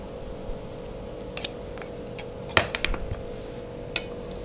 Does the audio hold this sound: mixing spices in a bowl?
yes